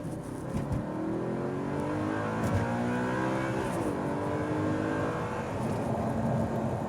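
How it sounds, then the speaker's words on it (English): A red 2012 Audi R8 mid-engine supercar accelerates hard, its engine note climbing steadily through the revs in a loud, continuous roar with rising pitch sweeps, heard up close from inside the car. "let's test out the acceleration."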